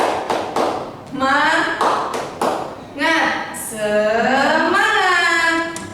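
A school class claps in a quick rhythmic spirit-clap pattern while voices chant loudly in unison over and between the claps.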